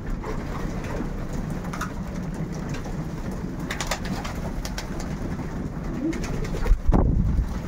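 Pigeons in a loft coo softly and steadily with scattered wing flutters and light tapping, a dense close chorus of birds with a louder shuffle near the end.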